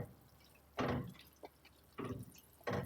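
Water drips in a kitchen sink after the tap is shut off while pasta Bolognese is cooked, producing a few separate soft splashy plops spaced about a second apart with quiet between them.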